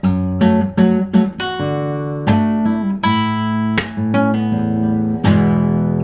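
A solo guitar picks out the vocal melody of a song, single sustained notes phrased like sung syllables, clear and close with no voice.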